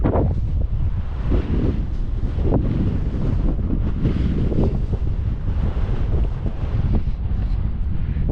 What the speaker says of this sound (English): Sorry, I know there's a lot of wind noise.